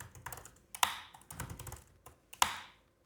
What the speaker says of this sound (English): What's wrong with my keyboard?